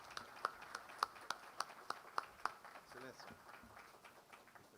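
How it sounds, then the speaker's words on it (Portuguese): An audience applauds a minister at a maritime law congress. The clapping is sparse, rhythmic and fairly faint, then fades under a speaking voice. "Uma salva de palmas para ele, por favor."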